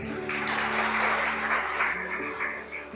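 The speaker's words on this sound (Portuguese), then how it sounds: "Você pode aplaudir a Jesus?" Church congregation clapping for Jesus during a sermon, a steady wash of many hands with a low sustained musical tone underneath, fading slightly toward the end.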